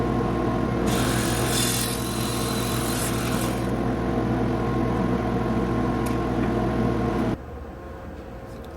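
A power tool cuts wooden countertop pieces with a loud, continuous grinding whine that holds steady, then drops abruptly to a quieter hum near the end.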